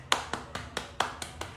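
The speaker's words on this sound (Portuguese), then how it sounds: "palmas para essa seguidora" Hands clap in a quick run of about seven sharp, close claps with a steady rhythm, fairly loud and with no talking over them.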